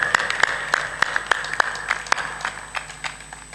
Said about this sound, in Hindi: तालियां बजती तो हैं लेकिन अधमरी है।